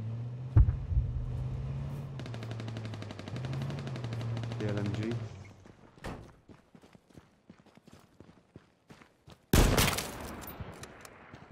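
Gunfire in the survival shooter H1Z1 comes as sharp cracks, with scattered single shots and then a loud close burst near the end, after a droning engine-like hum in the opening seconds.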